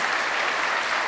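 Dense, even applause from an audience at a Hindi poetry recital, a steady wash of many clapping hands with no breaks, moderately loud.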